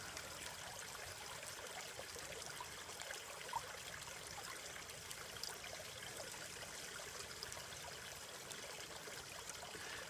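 Water swirling and sloshing in a gold pan held nearly level while panning outdoors in Alaska, giving a steady, soft, continuous trickling wash with no speech.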